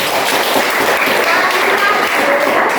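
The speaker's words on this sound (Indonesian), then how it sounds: "Tepuk tangan saja dulu." Classroom of students clapping for a classmate who came up to the board, a loud, close, steady patter of hands with voices mixed in.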